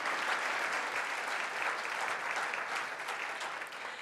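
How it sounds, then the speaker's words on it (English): An audience at the Concord annual town meeting applauds at a moderate distance. The clapping is steady and continuous for the full four seconds, with no break and no voice over it. "let's give him a round of applause in absentia"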